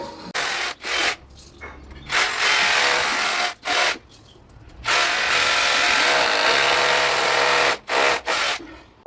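A DeWalt cordless hammer drill in hammer mode bores 10 mm holes in several loud, grinding bursts separated by short pauses, nearby and without talk.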